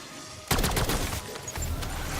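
Rapid burst of gunfire from a gun in Black Ops 6 zombies, loud and dense, breaking in abruptly after a brief quieter moment and continuing with sustained crackling shots.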